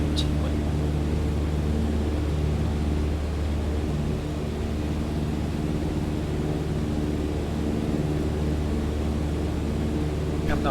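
Steady droning engine of a light airplane in Microsoft Flight Simulator during a VFR mountain flight over the Western Alps of Italy and Switzerland, a continuous loud hum with strong low tones throughout and no clear breaks.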